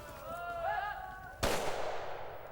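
A single loud gunshot booms out during a driven wild boar hunt in France, its report decaying across open country after a whistle-like tonal call just before.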